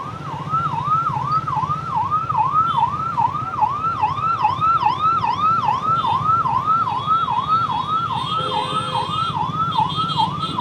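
An ambulance siren wails in a steady rising-and-falling cycle through city traffic in Hyderabad, loud and continuous, with a second siren tone joining faintly partway through over a low rumble of engines.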